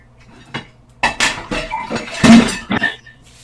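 Someone washes dishes nearby, with irregular clattering of pots and pans and clinks of cutlery, a few sharp knocks scattered across several seconds.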